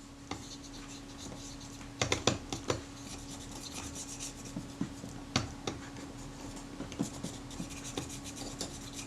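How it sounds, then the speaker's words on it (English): Cloth soaked in naphtha wiping the base of a Retina IIIc camera, soft close rubbing with a run of light scratchy strokes and small ticks, quiet and alone. "Last wipe of the base with some naphtha, just to make sure that there's no grease on there"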